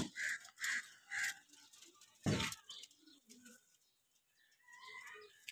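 Pigeons in a loft softly coo and call in short repeated bursts, quiet and fairly close, with a louder flutter-like thump partway through and faint murmuring between.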